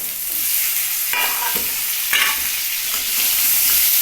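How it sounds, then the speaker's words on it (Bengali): Ginger and tomato hit a hot pan and sizzle loudly and steadily, with a few sharper bursts of spattering and scraping stirs over the continuous hiss, close up with no voices. "এখানে দিচ্ছি আদা আর টমেটো"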